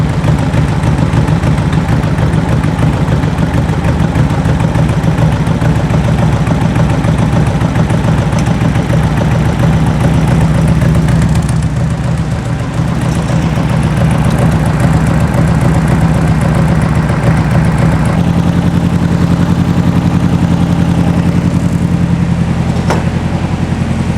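A 1970-ish sand rail's 2.2L engine with dual 44 IDF carburetors idles roughly and unevenly, as if not firing on all four cylinders, a loud, steady close-up rumble that drops lower in pitch for the last few seconds.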